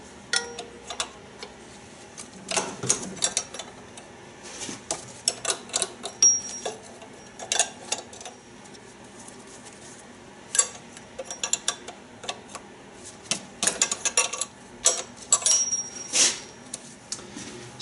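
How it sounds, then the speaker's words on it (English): A ratchet wrench clicks in short, irregular bursts of quick ticks while loosening injector lines on a VW Jetta A3 TDI diesel, close by and sharp, with brief gaps and faint metallic handling sounds between them. "I'm going to loosen all 4 of the injector lines that are on top of the injectors"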